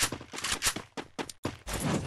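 Gunshots in the Free Fire battle royale game, rapid bursts of loud firing in quick succession with brief gaps, dense and close throughout.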